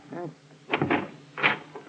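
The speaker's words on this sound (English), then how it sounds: "Open the door, will you?" Radio drama sound effect of a hotel room door being opened: a few short clicks and knocks of the handle and latch, close and fairly quiet, in three brief bursts.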